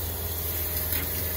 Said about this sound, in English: that noise you hear, that's the pump